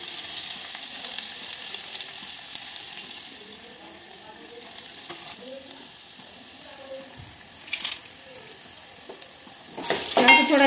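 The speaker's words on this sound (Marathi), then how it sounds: "अद्रक आणि लसूण थोडीशी लाल फ्राय झाले" Ginger and garlic paste frying in hot oil in a pot for masala rice, a steady close sizzle throughout with a couple of louder stirring scrapes near the end; a voice is faintly present.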